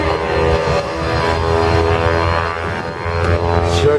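A propeller airplane performs aerobatics at the Lehigh Valley Airshow, its engine a steady, fairly loud droning hum that swells slightly toward the end.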